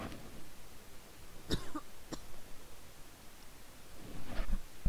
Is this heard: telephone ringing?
no